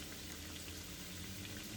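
Fish cakes fry in hot oil, a steady, soft crackling sizzle that continues evenly throughout, with no voices.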